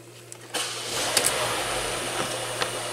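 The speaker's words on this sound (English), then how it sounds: "So we're gonna start the car," A Hyundai Elantra with a cooling system performance fault starts during a coolant replacement procedure: a sudden engine catch about half a second in, then a steady close running drone with small ignition-like bumps.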